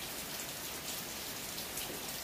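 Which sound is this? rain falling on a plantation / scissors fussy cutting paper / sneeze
rain falling on a plantation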